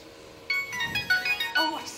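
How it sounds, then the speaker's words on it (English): A mobile phone ringtone chimes in a quick series of bright melodic tones, fairly close and clear, over a faint background hum. "sorry, that's my phone"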